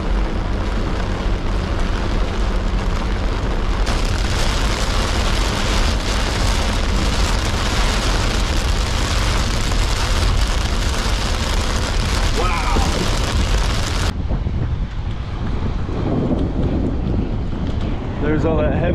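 Strong wind roars into the microphone during a supercell thunderstorm with a constant heavy rush, rain mixed in, easing and turning gustier near the end.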